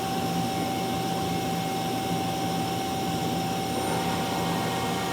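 The sub spindle of a Mazak QTN-250MS CNC lathe runs with a steady whirring hum and a thin constant whine, even and unbroken, heard close with no talk.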